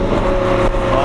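Porsche Metzger engine on a real-life car meet drive, a loud sustained engine drone with a steady pitch, brief and close.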